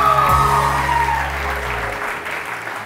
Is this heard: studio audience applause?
yes